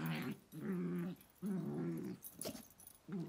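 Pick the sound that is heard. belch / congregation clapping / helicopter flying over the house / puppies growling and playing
puppies growling and playing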